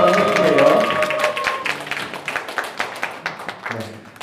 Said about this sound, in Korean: 박수로 환영 한번 해주세요.